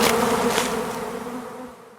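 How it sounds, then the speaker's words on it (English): Bees buzzing around beehives in a field, a dense steady hum of many insects close by that slowly fades toward the end. "I'm going to keep this on because I think I've upset quite a few bees"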